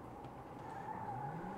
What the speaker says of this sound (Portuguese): O motor dele tá bom.